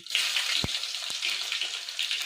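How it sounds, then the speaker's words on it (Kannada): Garlic sizzles in hot oil in a pan for sambar, a close, steady hiss of frying with a couple of soft knocks. "ಈಗ ಬೆಳ್ಳುಳ್ಳಿ ಹಾಕ್ಕೊತಾ ಇದ್ದೀನಿ"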